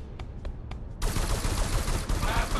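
Rapid enemy gunfire in Ghostrunner: a few sharp spaced shots at first, then a dense sustained burst of fast fire that swells loud and continues to the end.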